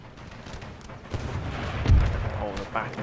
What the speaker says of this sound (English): be damn demi-cannons right over there. That's what's giving us the trouble.